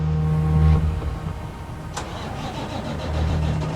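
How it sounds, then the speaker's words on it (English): A 75,000-pound heavy truck's engine cranks and catches, then settles into a steady, low, rumbling idle, heard close and loud with no talking. "Let's see if it starts."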